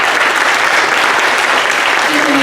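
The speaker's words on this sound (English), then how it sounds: "Really, give yourselves a round of applause." An audience at a community summit applauds, a dense and loud wash of clapping that holds steady throughout.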